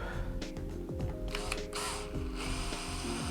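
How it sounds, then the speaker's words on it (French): Screws fitted with washers are driven into a soft pine batten for a headboard, making a quick, continuous ratcheting and whirring clatter that stays close and fairly quiet throughout. "je vais mettre 4 vis avec une rondelle"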